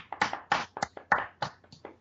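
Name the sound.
audience clapping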